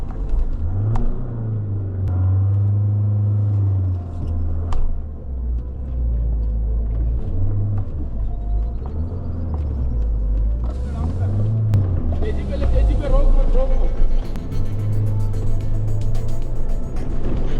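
An off-road vehicle in 4x4 mode at full throttle pulls out of a deep waterlogged marsh hole near a Ladakh lake, its engine a loud, steady low rumble with surging revs, with voices in the background.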